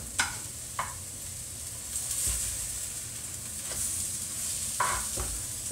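Egg-coated French toast frying in a pan gives off a steady close sizzle, broken by a few sharp scraping taps of a utensil against the pan.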